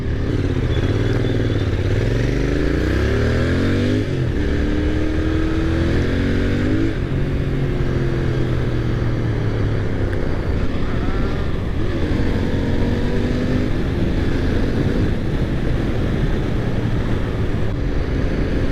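A Royal Enfield Interceptor 650 motorcycle engine drones loudly and continuously as the bike rides, pitch rising and falling through gear changes, constant close stock exhaust roar.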